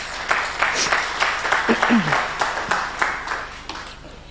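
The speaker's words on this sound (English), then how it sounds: "Let's give them a round of applause" Applause from a business forum audience in Kenya, with scattered claps spread across the room, steady at first and gradually thinning out toward the end.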